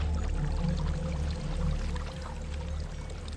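A waterfall in the video game Hellblade: Senua's Sacrifice, a constant heavy pouring rush of falling water with a deep low rumble, steady and fairly loud throughout with no speech.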